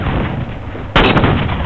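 A sniper rifle shot in the video game Halo 4 Team Sniper, one sudden loud blast that cuts in partway through and rings out over a steady, loud game background.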